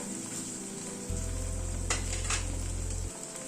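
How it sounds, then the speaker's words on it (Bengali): Cashew and poppy seed paste sautéing in a pan, a steady close sizzle with a low mechanical hum running through the middle and two brief scraping stir strokes, no voices. "কাজু আর পোস্তটা দিয়ে আবার একটু কষিয়ে নিলাম।"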